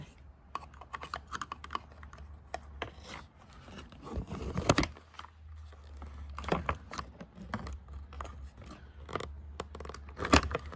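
Someone pries up a plastic trim clip on an Audi S4 side control trim panel, producing faint, irregular small plastic clicks, ticks and light scrapes. A couple of sharper snaps stand out, with no talking.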